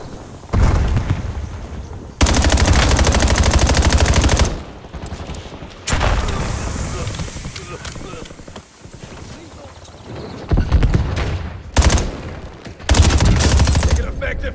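Loud automatic gunfire in a shooter video game match, several long dense bursts separated by short pauses, with shouted voice callouts in between.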